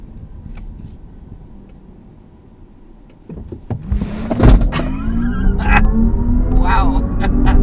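A 2022 Kia EV6 electric crossover launches hard from rest, starting as a quiet cabin hum and then swelling into a rising motor whine and road rumble that grows loud and steady, with brief voices in the cabin.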